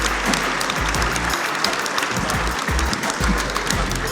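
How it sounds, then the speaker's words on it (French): An audience at a conference breaks into loud, sustained applause for the panel speakers, a thick continuous clatter of many hands with low-pitched murmuring beneath. "Merci à tous nos intervenants qu'on applaudit très fort."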